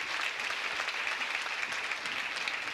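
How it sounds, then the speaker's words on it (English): Steady applause from a crowd at a 1991 fashion show, dense and continuous throughout, with no voices breaking through. "Big round of applause for those people."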